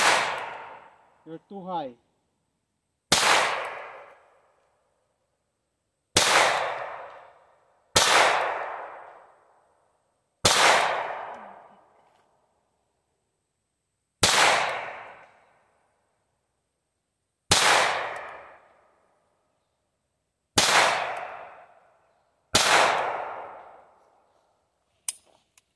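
Sharp pistol shots from a pink Ruger SR22 fired at targets, about ten separate loud cracks spaced a few seconds apart, each ringing out and decaying with a short echo, and a brief voice between shots.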